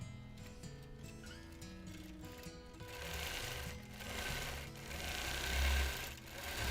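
A sewing machine quilting a border design on a wholecloth quilt hums with a fast, steady stitching rattle, close by and moderately quiet, with its speed rising and falling slightly.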